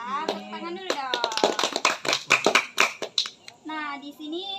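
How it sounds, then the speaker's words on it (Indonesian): A small group claps at a group guidance session, a short burst of uneven hand claps mixed with overlapping voices, framed by a speaking voice at start and end. "Tepuk tangan dulu dong."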